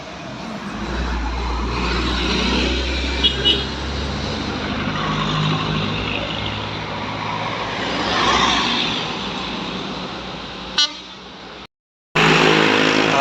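A large bus engine rumbles steadily as it passes along a city road in Aceh, with traffic noise throughout and a brief dropout near the end.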